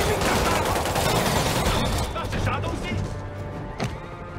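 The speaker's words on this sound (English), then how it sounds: "I'm being shot at!" Enemies fire guns at the player in Spider-Man Remastered, a dense, loud volley of shots with impacts and crashes, tapering off toward the end, under excited talking.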